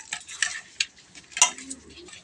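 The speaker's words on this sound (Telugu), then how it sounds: "ఈ విధంగా అల్లం వెల్లుల్లి పేస్ట్ 2 స్పూన్స్ వేసుకొని బాగా కలుపుకోవాలి." Ginger-garlic paste being stirred into a fish fry masala mixture, giving scattered scraping and clinking strokes of a spoon against the bowl with quiet gaps between them.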